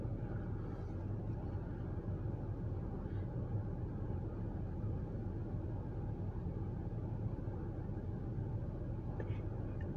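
A CSX truck passes at a distance as a steady low rumble of road traffic that holds even and unbroken throughout, with no clear approach or fade and no voices.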